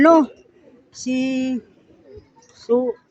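Racing pigeons cooing at the loft as birds arrive home after a 186 km race from Mulanay, Quezon; three short, fairly close coos with pauses between, no talk over them.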